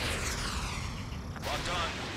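Missile launch in Ace Combat 7 jet combat, a roaring rocket whoosh over constant engine rumble with a sharp burst midway, while radio chatter runs underneath.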